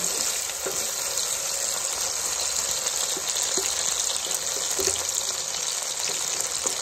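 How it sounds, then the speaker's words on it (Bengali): Potatoes frying in hot oil in a pan, as the first step of a spicy prawn and onion-stalk curry: a steady, close, even sizzle with faint crackles and no voices. "তারপর গরম হয়ে গেছে, আলুটা দিয়ে দিলাম। ভালো করে আলুটাকে ভেজে নেব।"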